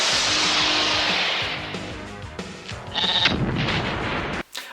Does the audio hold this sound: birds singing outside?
no